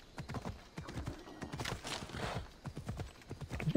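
Horse hooves clip-clop at a steady, unhurried walking pace in the video game Assassin's Creed Odyssey, on the island of Mykonos, with close, continuous hoofbeats throughout.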